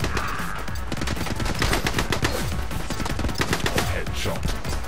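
Rapid assault rifle fire in the shooter video game The Club, dense bursts of gunshots crackling continuously and loudly throughout, with overlapping reports and no pauses.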